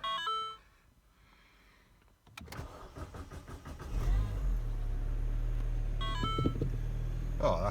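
A Mini Cooper R56 with a misfire history, being repaired after a thermostat change, starts up: dashboard chimes, a short cranking burst, then the engine catches and settles into a steady low idle, close by, with more chimes near the end.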